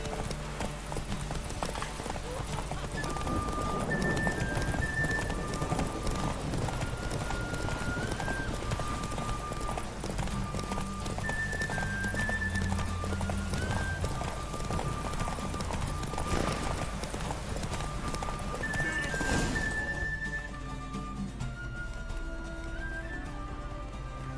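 A horse's hooves clip-clop at a steady trot in The Witcher 3, a continuous rhythmic patter under music notes and ambient game sound, fading slightly near the end.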